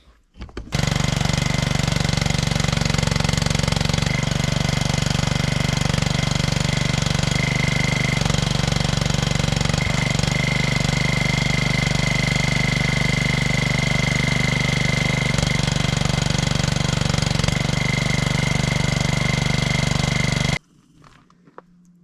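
Heavy gold mining machinery, a backhoe or trommel, running continuously at a dig site, a loud close mechanical roar and rattle holding steady for about twenty seconds before cutting off.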